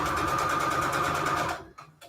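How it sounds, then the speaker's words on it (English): A sewing machine stitches fabric onto receipt paper in a fast, even mechanical whir that runs for about a second and a half, then stops abruptly, leaving a few faint clicks. "sewing on the fabric."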